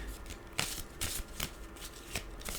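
A tarot deck shuffled by hand in short repeated riffles at a steady pace, close to the microphone, with no voices.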